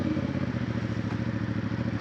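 A CF Moto CL-C motorcycle engine, similar to the 450 SS unit, runs under throttle with a steady, close, mid-pitched throbbing drone.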